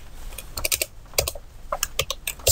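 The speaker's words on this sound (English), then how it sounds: "Okay, and I will type" Someone types on a computer keyboard in quick, uneven bursts of close, crisp key clicks with short pauses between them. The typing is heard alone.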